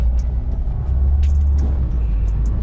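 Vehicle idling behind, a steady low engine rumble with faint clanks and hisses on top, close and continuous.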